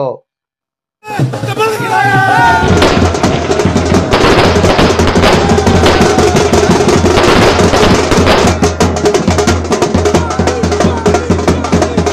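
Fireworks burst and crackle in rapid, dense volleys during a Kolkata street celebration with abir play and band music, loud and continuous for most of the stretch after a brief silent opening.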